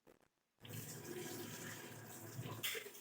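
Water poured and splashing while washing up in a home kitchen, a continuous rushing, gurgling pour that starts suddenly after a quiet moment and carries on close and fairly loud.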